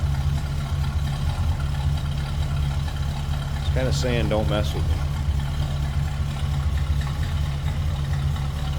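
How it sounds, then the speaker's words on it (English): A 1967 Pontiac GTO's deep, throaty exhaust rumbles steadily and loudly throughout while someone speaks briefly over it. "a nice sounding, deep throaty exhaust note coming out of that"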